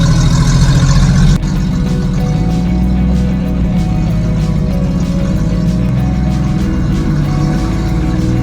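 A 1973 Toyota Land Cruiser FJ55 engine rumbles loud and close as the truck pulls into a service bay, with a steady low drone that shifts abruptly early on and then holds.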